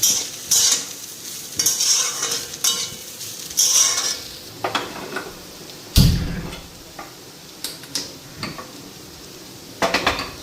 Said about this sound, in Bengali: আলু ভাজা হইতেছে